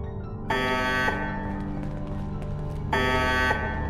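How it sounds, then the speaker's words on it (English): Alarm blaring inside a Fallout game mod: loud, steady harmonic buzzer tones sound in two bursts, with a lower-level alarm drone continuing between them over background game noise. "How to disable this alarm?"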